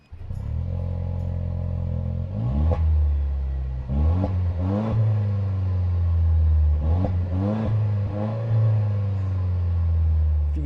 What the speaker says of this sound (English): For example, the exhaust note.